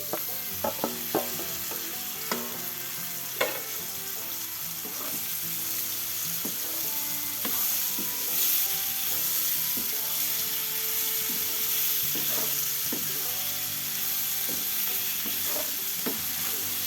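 Green tomatoes fry in hot oil with spices, a continuous close sizzle broken by irregular scraping clicks and knocks of a spoon stirring in the pan.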